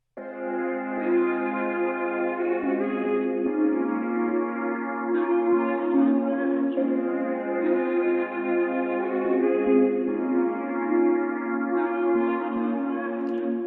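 Layered trap synth melodies drenched in reverb play together with no talking, built from bright sustained chords that shift every couple of seconds over a steady mid-range bed.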